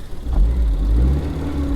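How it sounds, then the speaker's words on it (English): Blower motor of a Honda Civic Si running inside the car, a steady low whir and hum that holds evenly with a slight rise at the start. "It's got typical blower motor noise, that sound."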